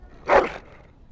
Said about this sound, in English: That is a wonderful dog.